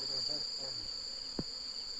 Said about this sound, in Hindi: अब इस पाइप के जरिए हम इस मधुमक्खी के झुंड को पकड़कर